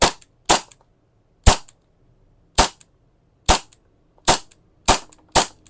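KJW CZ Shadow 2 airsoft pistol firing eight sharp, loud cracking shots at uneven intervals, close up with silence between them.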